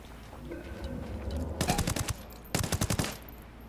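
Two short bursts of automatic fire from an SC 4000 rifle in Ghost Recon Wildlands, each a rapid run of sharp, loud shots about a second long, following a quieter stretch of game ambience.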